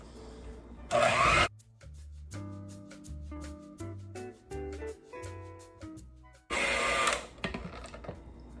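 An electric hand mixer beats gluten-free bread dough with added liquids, its motor whine rising and falling in pitch as it labours, bracketed by two louder rattling bursts.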